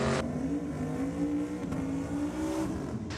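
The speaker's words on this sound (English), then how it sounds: "A turbocharged VL with a parachute." A turbocharged Holden VL drag car with a parachute at a night drag and burnout event in Sydney, its engine droning loud and close with a rising harmonic whine over about three seconds.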